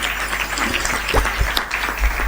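Audience applause at a poetry recital fills the stretch with steady, dense clapping from a seated crowd, moderately loud and unbroken, with no speech over it.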